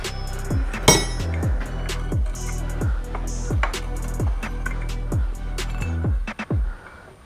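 A hammer strikes the locking tab on a nut of a Yamaha Raptor 700R engine during a side-case build. About a dozen sharp metallic taps ring close by at a steady pace over a faint background hum, with no talking.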